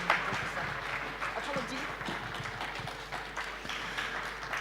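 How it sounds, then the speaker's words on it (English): Applause from a crowd at an official flag-off ceremony, a steady, fairly faint wash of clapping heard from a distance, lasting throughout without pause. "Let's make the applause very poetic."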